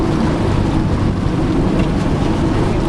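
A motorboat driven across open water by a young boy, a loud, steady broadband rush of engine, hull and wind noise filling the whole moment without a break.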